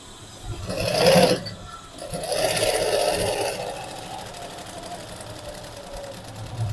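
A sewing machine stitches a small foldable bag the size of a wallet, running in two close, loud bursts of rapid whirring that trail off into quieter mechanical hum.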